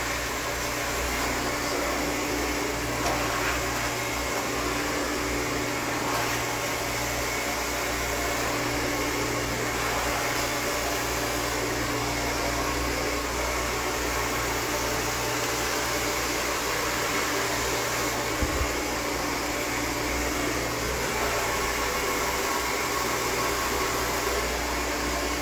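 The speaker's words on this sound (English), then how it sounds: "You notice it's blowing her hair out very straight, but it's on medium heat and low heat." A hair dryer runs steadily on medium heat while blowing out a woman's hair straight before flat-iron curls, a continuous broadband airflow whoosh with a low motor hum, close and unbroken throughout.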